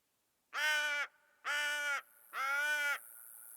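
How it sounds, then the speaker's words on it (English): Three long, loud, harsh crow caws in steady succession from the Hunter: Call of the Wild game, each drawn out and evenly spaced against near silence. "That sounds like a crow."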